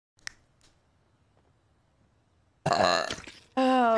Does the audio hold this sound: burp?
yes